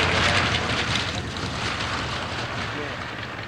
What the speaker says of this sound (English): The North American company also built the T-28 Trojan, seen here flown by Judy Pay, one of Australia's most prominent woman aviators.